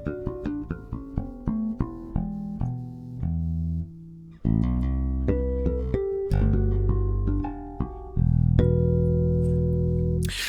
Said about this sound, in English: we're playing a Marco TFL 4-string.